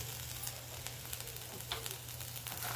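Bitter gourd gojju ingredients fry steadily in a pan, giving a continuous soft sizzle with faint crackles and a low hum behind it, moderately quiet and with no voices.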